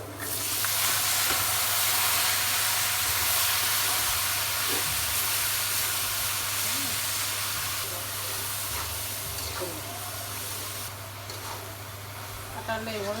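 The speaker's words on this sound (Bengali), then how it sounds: "এবার কাঁঠালটা ঢেলে দিব।" Jackfruit sizzling as it goes into a pan of fried onion and garlic, a broad steady hiss and crackle throughout, close and fairly loud, with a few clatters near the end.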